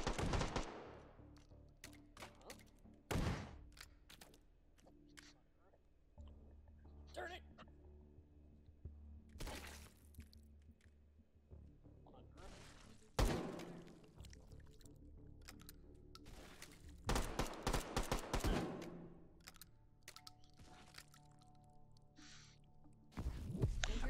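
Several sharp, loud shots from an odd-sounding hot round fired in the VR game Hot Dogs, Horseshoes & Hand Grenades, spaced irregularly with quiet gaps and a short burst near the end.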